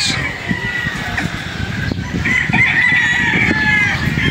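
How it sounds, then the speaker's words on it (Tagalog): Pure Boston pullet hens on a farm in Padre Garcia, Batangas, cluck loudly and steadily. A rooster-like crowing cry rises above the flock partway through. "Ayan ang kanyang mga inahin mga idol."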